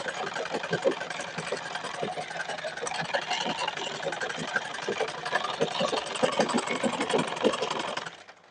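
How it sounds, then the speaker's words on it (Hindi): A sewing machine runs a straight seam of stitches through stiff buckram interfacing, a fast mechanical whirr with rapid ticking needle strokes, close and continuous before stopping abruptly at the end. "तो यहाँ पर देखिए हम सीधा सिलाई चला रहे हैं।"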